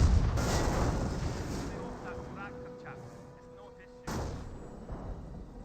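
Artillery and gunfire in Company of Heroes, a World War II strategy game: heavy booming blasts at the start and again partway through, with rumbling decay and scattered battle noise between them, under a commentator's voice.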